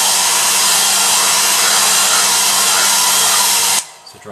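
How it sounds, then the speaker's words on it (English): A hair dryer blasts a steady, loud roaring airflow onto a foam and latex costume chest piece, running continuously close by before cutting off abruptly near the end. "Give it a very quick blast with the hair dryer."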